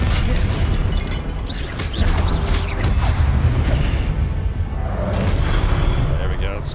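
A Confringo fire spell goes off in Hogwarts Legacy as a loud rumbling blast amid dense, continuous combat noise. A voice speaks over the fighting.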